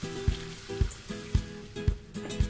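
Chicken thigh pieces sizzle loudly in a pan with softened onions, a steady frying hiss punctuated by regular thumps of stirring.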